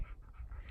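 A dog pants steadily in rapid rhythmic breaths on a mountain summit around 2100 meters during a hike, close and fairly faint, with no talking over it.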